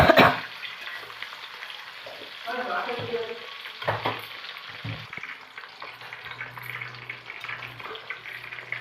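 Prawns sizzling in hot oil after being turned in the pan for a Bengali prawn malai curry, a steady close crackle with a few clatters of utensils.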